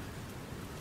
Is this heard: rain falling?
yes